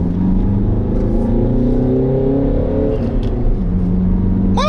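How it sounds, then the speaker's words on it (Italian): A Peugeot 3008 diesel revs in sport mode during a test drive, a steady, loud engine drone heard from inside the cabin, rising and settling in pitch as the car accelerates around a roundabout. "scalo e Luca, senti subito il rumore del motore come diventa più aggressivo."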